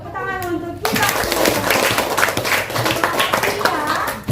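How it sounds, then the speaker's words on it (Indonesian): Students in a classroom clap their hands together in a loud, dense burst that starts abruptly after a brief voice and continues steadily, with children's voices mixed in. "Tepuk tangan untuk kita"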